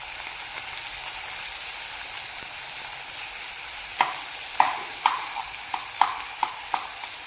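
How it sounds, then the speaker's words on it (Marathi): Chopped onion sizzles steadily in a pan over a high flame, with a run of sharp spatula scrapes and clacks from stirring that turn regular in the second half, close and fairly loud, no voices. "कांदा छान सॉफ्ट करेपर्यंत आपल्याला तीन ते चार मिनिटासाठी परतवून घ्यायचं आहे"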